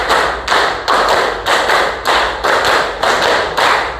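A class of children claps together in a steady rhythm, about eight sharp, even claps spaced roughly half a second apart, loud and close in a schoolroom, with no talking.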